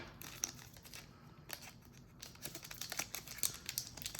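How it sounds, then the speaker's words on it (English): Quiet, close snipping and crinkling as scissors cut open plastic sleeves on Kamigawa Neon Dynasty collector card packs, a series of small irregular cuts and rustles with no talking. "I'm going to have to cut open these with a pair of scissors"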